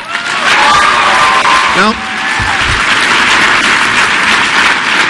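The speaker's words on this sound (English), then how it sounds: "those of you watching at home may wonder why this is being applauded" Audience applause and cheering at the CPAC conservative gathering, a dense sustained wash of clapping with whoops from a large crowd, loud and steady, with a brief voice speaking partway through.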